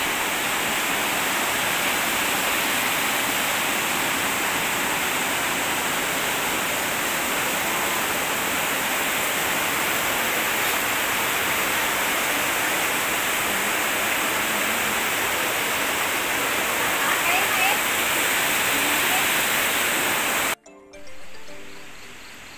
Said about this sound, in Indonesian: Sampingnya tuh sungai.